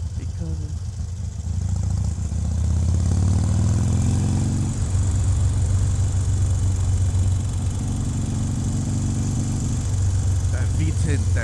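A Harley-Davidson Iron 883 V-twin motorcycle engine drones steadily while riding, its low rumble rising and falling in pitch as the throttle changes, with wind noise over the top.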